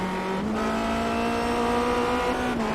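A Formula Renault 2.0 race car in a racing video game at Monza, a close, steady engine drone whose pitch drops at one point as it slows, continuous and without talk.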